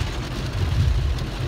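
Heavy rain pours down on a car while driving, a steady close wash of drumming water with low rumbling underneath, no voices.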